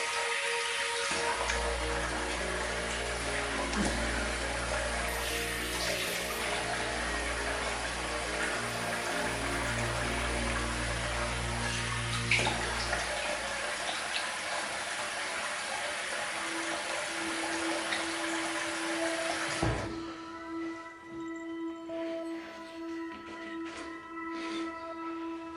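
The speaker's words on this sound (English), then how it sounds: "Let's rinse off." Tap water runs steadily into a sink as someone rinses off after a wet shave, a soft continuous splashing that stops abruptly near the end, leaving quiet room tone with faint clinks.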